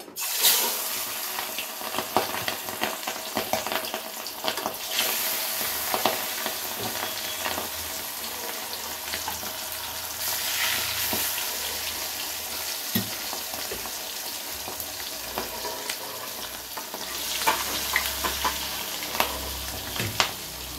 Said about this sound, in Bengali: ঢাকা দিয়ে দিয়ে মাছটাকে ভেজে নেব